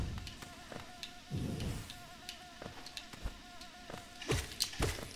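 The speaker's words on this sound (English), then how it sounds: "We're back to where the bees are." Insect-like buzzing from the bee area of the Hollow Knight video game plays softly and continuously, broken by a few scattered thumps and short bursts.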